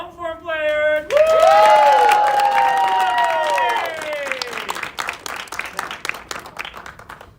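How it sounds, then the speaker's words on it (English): An audience at a winter improv comedy show greets its long-form players with whoops and rising cheers that break into sustained applause, the clapping thinning toward the end. "Let's first give a round of applause for our lovely long form players."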